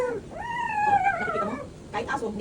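Oreo, a dog on a film set, lets out a drawn-out, high, wavering whine that rises and then falls, followed by a couple of short whimpers, with background room noise underneath.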